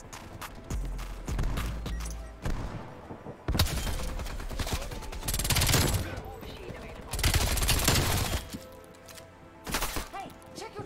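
A MAC-10 submachine gun in a Cold War era first-person shooter, firing in several rapid bursts separated by short pauses, loud and close, with game effects in between.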